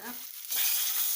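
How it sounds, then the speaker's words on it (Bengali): Spices for a thin chickpea lentil dal hit hot fat in a brief, close sizzle: a short burst that rises suddenly into a steady bright hiss with no voices. "বাগার দিয়ে দিচ্ছি"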